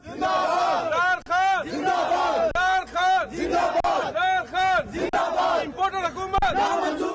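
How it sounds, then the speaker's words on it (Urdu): A large crowd at a Pakistani political rally chants rhythmic slogans such as "Pakistan Zindabad" in unison, loud and repeated in short bursts with brief pauses between phrases. "فضا پاکستان زندہ باد اور دیگر نعروں سے گونجتی رہی۔"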